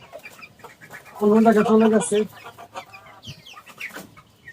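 Newly arrived chickens, including Silkie hens, cluck in a short loud burst of repeated calls, with a person talking nearby before and after.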